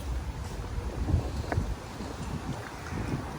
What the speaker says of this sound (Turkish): Bugün çok rüzgar var şansımıza ya.